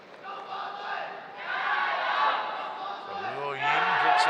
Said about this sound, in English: That is greeted with celebration in the crowd.